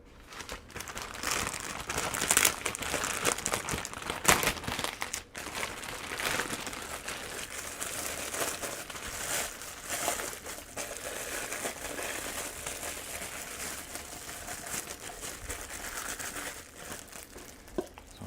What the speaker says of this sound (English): let's set up our cups. So we like using the comfrey plastic cups and dome lids.